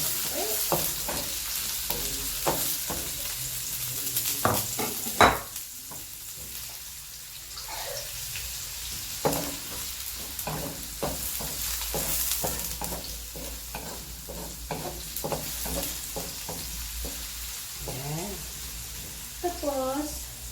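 Onion sizzling and frying in a pan alongside tofu, a steady hiss broken by repeated scraping stirs of a utensil and brief clanks, with a voice speaking at times over the cooking.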